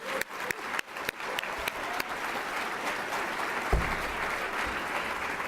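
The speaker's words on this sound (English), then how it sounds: "We can go ahead and clap for him." Audience applause at a community mental health fundraising luncheon, a dense sustained patter of many hands clapping, moderately near, with a few sharper individual claps at the start.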